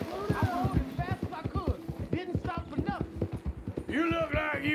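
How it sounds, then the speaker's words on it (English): Horse hooves clip-clop in a steady riding rhythm in the Red Dead Redemption 2 video game, with a voice talking over the hoofbeats throughout. "Come on, let me on my horse."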